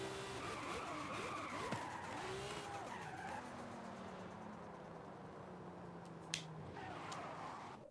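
A souped-up car in a video game races and skids, with a continuous engine roar and long squealing tire slides that sweep up and down, ending in a sharp knock.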